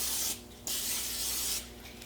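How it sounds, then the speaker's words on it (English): Two short bursts of hissing fat-free cooking spray onto a sheet pan, close up, separated by a brief pause, with a faint steady hum underneath. "spray the pan with fat-free cooking spray"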